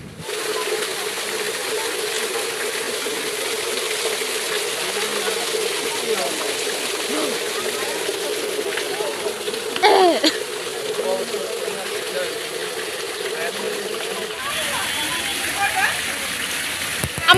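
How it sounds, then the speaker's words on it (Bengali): A water fountain shaped like a water lily pours a steady, continuous rush of splashing water nearby, with people's voices faintly mixed in and a brief clatter partway through. "খুবই সুন্দর একটা শাপলা ফুলের পানির ঝর্ণা তৈরি করছে।"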